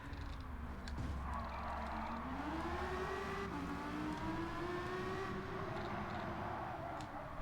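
A fast race car engine in Gran Turismo 7 drones steadily, its pitch rising and falling slightly as the car speeds along at high revs, loud and continuous with no talk over it.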